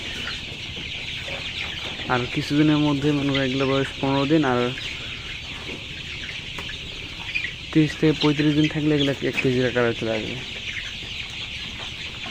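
Colour Bird chickens on a poultry farm cluck in two busy bursts of overlapping calls while someone talks nearby over steady farm background noise.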